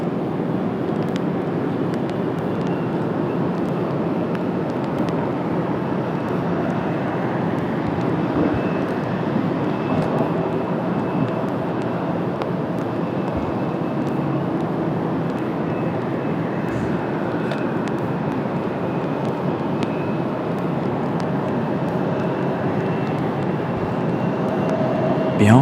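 An Air France heavy jet arriving from Paris at Washington Dulles on a cloudy day gives a continuous, even rumble that fills the whole stretch without breaks.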